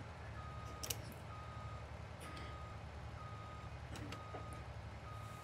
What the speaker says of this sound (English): I'm going to reverse this trailer out of the way a bit.